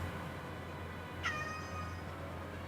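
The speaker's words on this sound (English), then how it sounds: "He has regained his ability to meow." A pet cat gives a single short, clear meow midway through, alone over a faint steady background hum.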